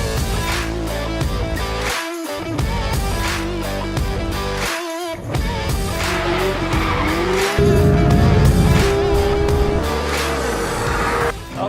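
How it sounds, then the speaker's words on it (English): Porsche 911 GT3 RS lapping the Nürburgring, its engine roaring loud and close as it climbs and drops through gear changes, with brief lifts and a sustained high-revving pull toward the end. "Listen to that engine."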